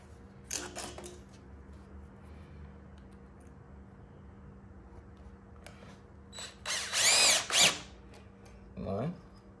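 Power drill driving screws into the wood of a homemade fruit stand, heard as several short whirring bursts, the loudest two near the end, over a quiet hum of background noise.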